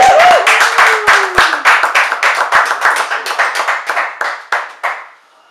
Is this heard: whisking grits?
no